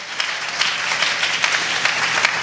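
A church congregation applauds, a dense and steady wash of many hands clapping, loud and close, continuing without pause.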